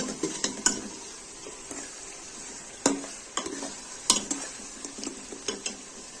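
Beef and chana dal masala stirred and fried in a pan, a steady sizzle under repeated sharp scrapes and clinks of the spoon against the metal, close and moderately loud, with no voices.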